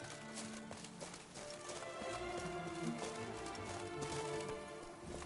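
Roach, a horse in The Witcher 3, gallops with a steady, rapid clip-clop of hooves that stays loud and close throughout, with a brief whinny and ambient game sound beneath.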